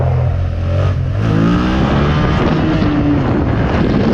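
A Suzuki SFV650 motorcycle engine roars and revs hard as the rider pulls a wheelie, with loud wind buffeting the microphone throughout and the engine note climbing steadily.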